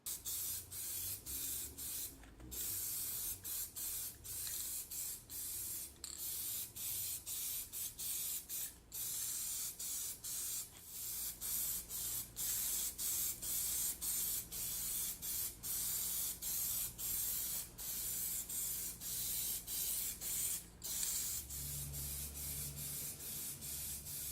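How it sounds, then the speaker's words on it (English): Repeated bursts of hissing aerosol from Plasti Dip chameleon spray cans, long steady sprays broken by short pauses, close and continuous, with no speech. "going to do about 2 or 3 coats of the turquoise silver and the green and blue chameleon spray cans"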